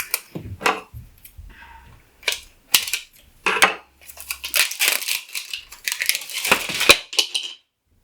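Plastic wrapping being pulled and crinkled off a plain wooden block, a run of close, sharp crackles and snaps in irregular bursts, ending in a cracking break.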